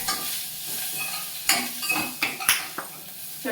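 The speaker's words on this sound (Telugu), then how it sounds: "నాకు తెలిసి ఆల్మోస్ట్ ఆనియన్స్ ఫ్రై అవుతున్నాయి." Onions fry in a pan for vegetable biryani, with a soft steady sizzle under the stirring. A spatula scrapes the pan and clinks against it a few times.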